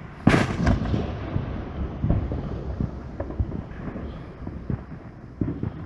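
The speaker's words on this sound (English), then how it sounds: "And did some fireworks here." Fireworks burst at home on the Fourth of July on a hot, humid night, a string of sharp cracks and booming thuds at varying distances, some loud and near, others fainter, with no talking.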